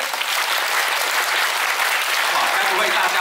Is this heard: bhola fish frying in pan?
no